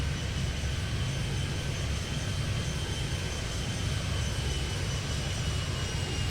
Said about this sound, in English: I don't know if I can get this plane off or not before Bubba here.